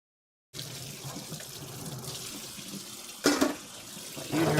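A kitchen faucet runs steadily as a knife is rinsed under it, a close, even rush of water with a louder splashing surge near the end and no talking.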